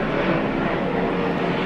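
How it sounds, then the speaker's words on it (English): Helicopters flying overhead make a loud, steady rotor and engine roar that stays constant and close throughout. "There's all these helicopters that have been going back and forth."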